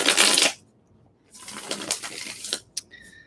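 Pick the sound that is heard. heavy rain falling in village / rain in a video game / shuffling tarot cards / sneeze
shuffling tarot cards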